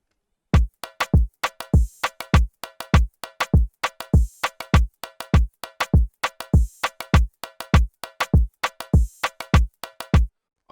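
A full afrobeats drum pattern programmed in FL Studio, with punchy kicks, congas and percussion hits looping in a tight syncopated groove, loud and close for about ten seconds without any voice.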